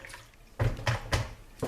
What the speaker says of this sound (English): to this bowl of water and get them a nice rinse.